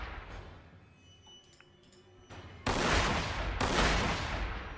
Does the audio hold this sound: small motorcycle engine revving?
no